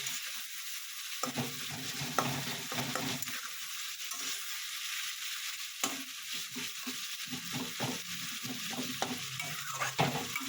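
Steady, hissing sizzle of food frying in a pan, with occasional light taps and scrapes from stirring, continuous and moderately quiet.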